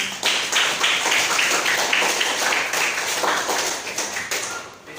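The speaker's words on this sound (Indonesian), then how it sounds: "Tepuk tangan semuanya." A group of people claps steadily in a classroom to trigger a sound-sensor lamp switch, producing a run of sharp, fairly close hand claps that thin out and fade near the end.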